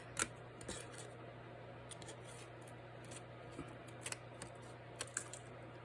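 Scissors chomp through a paper skull in a few crisp, close snips, with soft paper rustles between the cuts in a quiet room.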